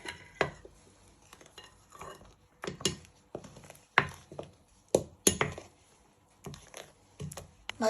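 A spoon stirring and scraping against a bowl as bicarbonate of soda and treacle are worked into sticky toffee pudding batter, giving irregular clinks and knocks that sit close and fairly quiet, with no talking.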